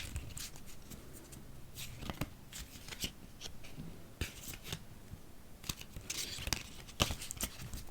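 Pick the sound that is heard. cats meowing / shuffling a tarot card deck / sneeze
shuffling a tarot card deck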